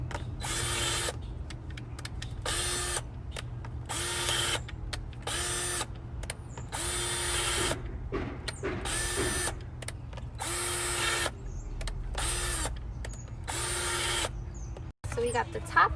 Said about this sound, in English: we're gonna drill our holes on our top first